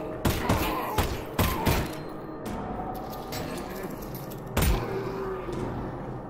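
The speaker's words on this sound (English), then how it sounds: "Guns work so well." Several sharp gunshots in Half-Life: Alyx VR, a cluster of close, punchy shots near the start and another single loud shot later, over a steady game ambience.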